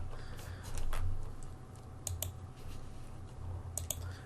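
Close, quiet typing of website code on a computer keyboard, with quick clusters of key clicks separated by short pauses and no voices.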